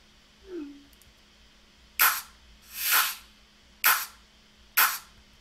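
Layered clap and snare drum samples built in Ableton hit four times in a sparse, uneven pattern, each one a bright, crisp noisy burst over a low hum, after a faint short blip at the start.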